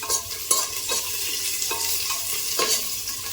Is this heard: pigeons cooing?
no